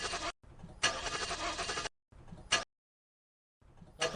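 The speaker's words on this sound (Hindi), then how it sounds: "यार गाड़ी तो बंद हो गई।" A car engine repeatedly cranks and fails to catch, in several bursts of grinding starter noise separated by abrupt silences.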